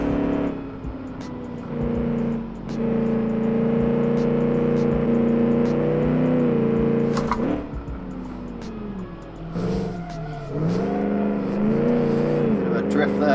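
A 1946 Gasmea race car in the game Automation holds its engine against the rev limiter down the back straight at Road Atlanta, a loud sustained buzzing drone that dips and climbs again near the end, with a voice talking over it.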